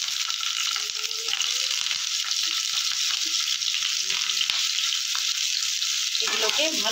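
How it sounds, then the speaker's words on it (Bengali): Steamed cauliflower florets frying in about four spoons of hot oil in a pan give a steady, close sizzle with occasional stirring clicks, no talking. "এবার আমি ভাপানো কপিগুলো এর মধ্যে দিয়ে ভেজে নেব।"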